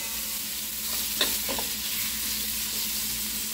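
Onions frying with crushed ginger and garlic over a high gas flame while being stirred, a steady close sizzle broken by a few scraping stirs partway through.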